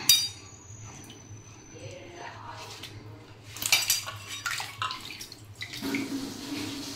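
Radish greens are rinsed in a basin of water, with sloshing, dripping and clinking of metal vessels and utensils, fairly close and moderately quiet, with a steady low hum underneath and bursts of splashing toward the end.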